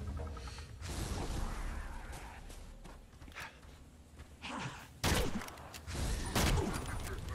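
Gunshots in the Evil Dead video game: a few sharp, loud blasts, with the clearest two standing out near the end over a busy bed of game noise and shuffling movement. No one speaks.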